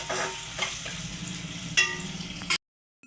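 Mutton keema frying evenly in a pan, a steady close sizzle broken by a few scraping stirs and utensil clicks, ending abruptly in near silence.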